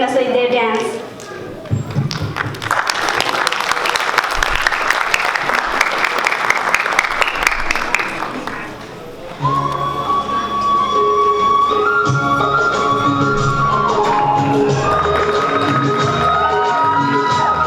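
A crowd at a Nepali cultural night welcomes dancers to the stage with loud applause, cheers and shouts for about nine seconds. Then the noise drops away as music with melodic lines starts.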